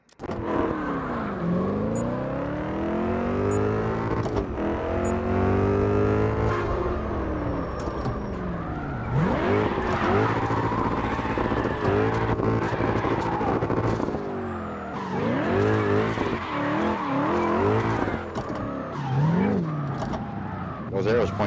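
Drift car in the CarX Drift racing game, styled like a Forza drift car, with a loud engine constantly revving up and down and long tire squeals and skids running throughout.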